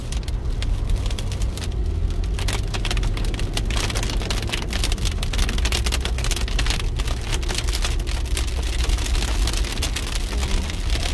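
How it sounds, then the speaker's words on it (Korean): Heavy rain shower pelting down steadily on a car driving near Chamonix, France, a dense constant patter over a low rumble of traffic. "갑자기 또 소나기가 쏟아지네."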